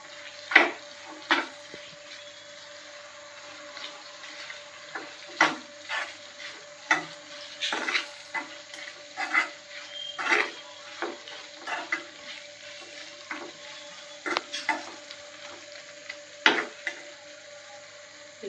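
Tempering for a Guntur-style prawn pickle fries and sizzles steadily in hot oil with curry leaves, while a spoon scrapes and stirs against the pan in repeated clacks, close and alone with no voices.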